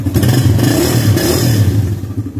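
Carbureted Suzuki Raider motorcycle engine revs loudly up close, a rough throbbing exhaust note with rapid throttle blips and mechanical clatter, no voices over it.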